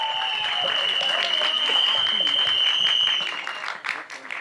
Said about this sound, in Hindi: हमारे डायरेक्टर साहब अनुकल्प सर के लिए एक बार जोरदार तालियां